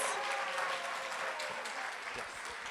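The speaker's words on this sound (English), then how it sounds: "How about another round of applause for all the graduates and their families?" Applause for graduates and their families at a university achievement ceremony, a steady wash of clapping from a large audience lasting throughout, with faint voices beneath it.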